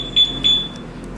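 Anti-theft alarm on a light blue Yamaha Fazzio scooter gives two short, loud, shrill beeps close by, followed by a quieter tail.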